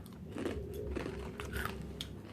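Crispy Thai pork skin being bitten and chewed close to the mic, with quiet repeated crunchy bites and chewing in a soft, steady rhythm.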